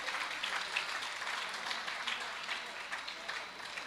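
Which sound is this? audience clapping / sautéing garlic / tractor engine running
audience clapping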